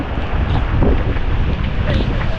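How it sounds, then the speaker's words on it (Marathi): A big sea wave surges in at Mandvi beach, a loud broad wash of water and wind buffeting the microphone, rushing continuously for the whole moment with no clear speech. "आता पूर्ण आली होती मोठी लाट"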